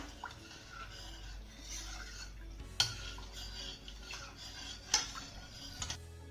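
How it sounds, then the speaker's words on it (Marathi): Water being stirred into thick ground lentil batter with a spoon, a steady wet scraping and swishing in the bowl with a few sharp clinks against the rim, close and moderately loud. "आता हे घातलेलं पाणी चांगलं मिक्स करून घेऊया"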